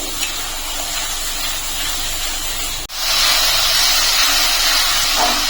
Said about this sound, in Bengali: এখন 2-3 মিনিট কষিয়ে নেবো গোবিন্দভোগ চাল দিয়ে।